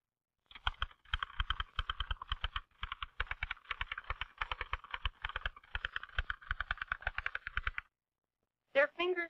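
Rapid clacking keystrokes on an old manual typewriter, a dense, irregular run of crisp mechanical clicks for several seconds, then a pause and a brief spoken voice at the end.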